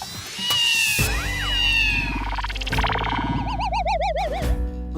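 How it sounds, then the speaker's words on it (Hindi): Two cats fight indoors in a home, trading loud, close meows and wailing caterwauls that swoop and warble, ending in rapid trilling yowls, with no talk over them. "अंदर दो दो बिल्लियां लगता है, झगड़ा कर रही है।"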